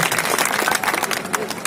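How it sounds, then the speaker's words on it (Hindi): An audience applauds to welcome committee members at a public event, a short burst of dense clapping that fills the room with some crowd noise mixed in. "जोर से आप तालियां बजा के इनका स्वागत करें"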